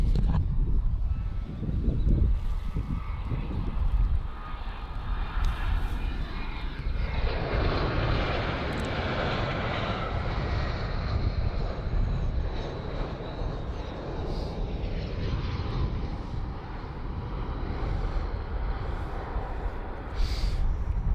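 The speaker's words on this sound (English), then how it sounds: "Coming in there, we have SAS flight 2832 coming in from Split, Croatia. It's an Airbus A320, not a Neo" An SAS Airbus A320 (not the neo) on a flight from Split lands at Copenhagen Airport, its jet engines giving a steady, loud, broadband roar that holds for the whole stretch with no voices.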